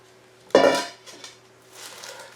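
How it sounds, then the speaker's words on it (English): New York Early onion pieces tipped onto dehydrator trays, making one loud clattering rustle followed by a few softer knocks and shuffles, close by with no talking. "We're going to put the New York early onions in the dehydrator now"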